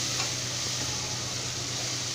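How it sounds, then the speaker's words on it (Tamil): Masala with coriander powder sautéing in a pan for Chettinad-style seeraga samba mushroom biryani, a soft continuous sizzle heard alone and close, without distinct stirring strokes or voices. "இப்போ இது எல்லாமே சேர்த்து நல்லா வந்து அந்த மசாலாவை வதக்கிக்கலாம்."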